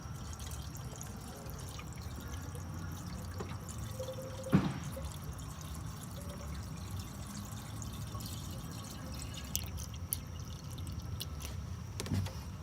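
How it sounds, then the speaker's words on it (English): Distilled water is poured into the coolant system of a Nissan 240SX, heard as faint, sparse drips and light trickles over a low, quiet background hum, with a couple of small splashes standing out. "Brought me some distilled water so I can just make it home and top this thing off real quick"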